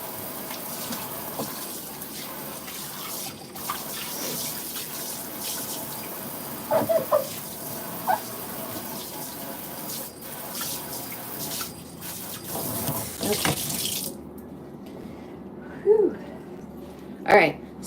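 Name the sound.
water running from a kitchen tap while rinsing food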